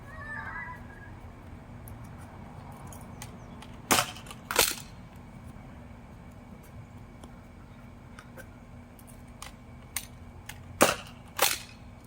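A Nerf shotgun fires foam darts in two pairs of sharp, snappy pops, one pair early and one near the end, over a faint, quiet background.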